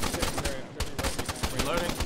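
Rapid automatic gunfire with tracers in the military shooter ARMA 3, a close, loud run of evenly spaced shots filling the whole moment with barely a pause.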